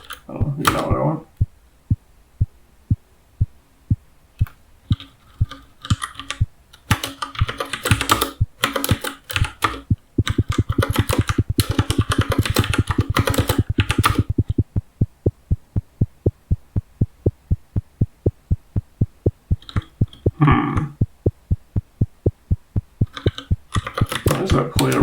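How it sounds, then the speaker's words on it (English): An FM-synthesized kick drum repeats as a rapid rhythmic thump with an unwanted percussive click on each hit, sometimes dense and sometimes sparse, while a voice talks intermittently. "What's causing that clicking? I mean, it is kind of a percussive sound"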